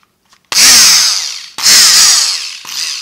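A Ridgid JobMax power tool fitted with an old head on a new body whirs up loudly in three bursts, a harsh whiny motor drone with a short pause between runs, close and alone.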